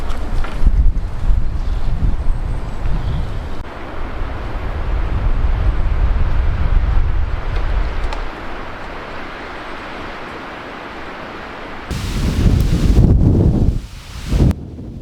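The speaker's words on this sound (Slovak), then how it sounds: "Ale ten vietor, ten bol naozaj neskutočný, len sa na to pozrite." Strong wind roars across an outdoor front yard, buffeting the microphone in heavy, rumbling gusts that ease briefly before surging back loud and close.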